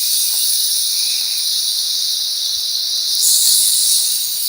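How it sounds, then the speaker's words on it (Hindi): Masala roasting in a pan for cholay (white chickpea curry), giving a steady close hiss of sizzling oil that swells slightly near the end, with no talking. "अब 2 से 3 मिनट तक अच्छी तरीके से इसकी भुनाई करेंगे।"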